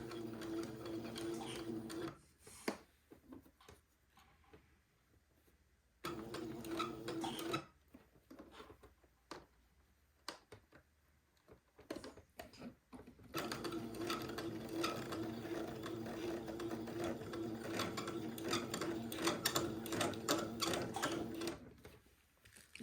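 A sewing machine stitches a slow, smooth curve on a doll dress, running in bursts separated by pauses, with a long steady stretch of stitching at the end; no one talks.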